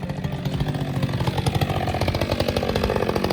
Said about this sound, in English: Chainsaw guy.